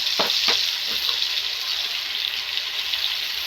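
Cauliflower and potato frying in a pan, with a steady loud sizzle throughout and a few quick stirring scrapes near the start.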